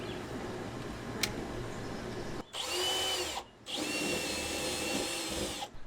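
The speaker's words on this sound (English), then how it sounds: "and it's time to drill that hole." Power drill boring a pilot hole through a camper van floor during a heater install, two sustained high whining bursts separated by a brief pause, loud and close with no talk.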